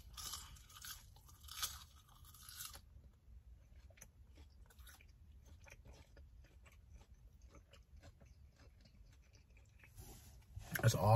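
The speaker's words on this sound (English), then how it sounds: "sorry for the smacking. Some more French fries." Crunchy French fries are chewed close to the mouth in repeated crisp, wet bites and smacks. The chewing is louder early on, then softer crunches follow, and a burst of noise comes at the end.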